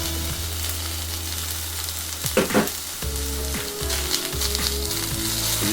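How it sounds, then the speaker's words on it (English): Finely chopped onion hitting warm oil in a cast iron tagine base, a constant bright sizzle with a few louder spits and stirring clatters partway through. "we're going to add 1 finely chopped onion."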